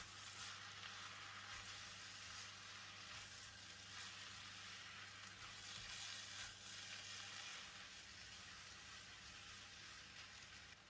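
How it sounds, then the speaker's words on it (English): Bean sprouts and yee mee noodles stir-fry in a pan with a soft, continuous hiss of sizzling oil that stays even throughout, heard fairly faint and without any voices. "Stir and mix for 20 seconds or until the bean sprouts are cooked and soft."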